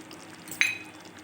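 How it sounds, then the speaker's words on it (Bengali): A utensil stirs fenugreek chicken curry in a pan, giving one sharp metallic clink over a soft, steady sizzle. "এবার আবারও একটু নেড়ে মিশিয়ে নেব"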